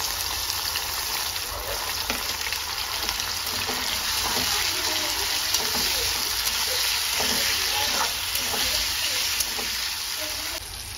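Onions and tomatoes frying in a pan for a pepper paneer starter, with a loud, continuous sizzle and crackle and occasional stirring scrapes heard close up.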